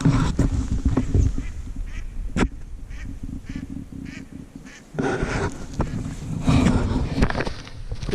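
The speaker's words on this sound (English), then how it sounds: "Cool seeing all the birds out today." Ducks quack repeatedly outdoors during a winter trapping check, calls coming in bursts at moderate distance over a steady wash of background noise, with a louder flurry near the end.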